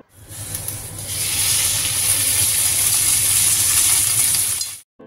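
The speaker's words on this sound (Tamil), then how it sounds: "இந்த வெண்டைக்காவை நம்ம ஃபஸ்ட்டு ஆயிலில் ஃப்ரை பண்ணி எடுத்துக்கலாம்" Okra frying in hot oil with turmeric and salt, a loud steady sizzle and hiss that swells in after a moment and holds evenly before cutting off near the end.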